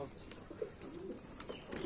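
Soft, low cooing comes from a pigeon sitting on a rooftop. It is heard as short repeated murmurs over outdoor background noise, with faint chirps and no speech.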